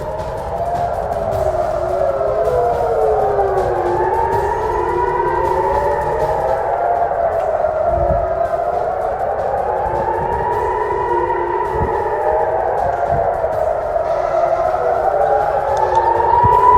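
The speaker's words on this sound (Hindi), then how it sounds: "इजराइल में एक बार फिर से खतरे के सायरन सुनाई देने लगे हैं।" Several air raid sirens in Israeli cities wail at once, rising and falling in overlapping loud sweeps that drone on continuously without pause.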